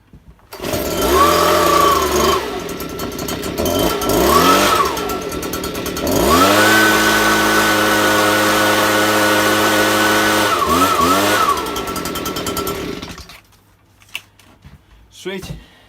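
A Stihl BG86c leaf blower's two-stroke engine, freshly repaired with new bottom-end bearings, pulled over a few times with choke, then catching and running at a loud steady idle with brief revs before cutting off, a few clunks after.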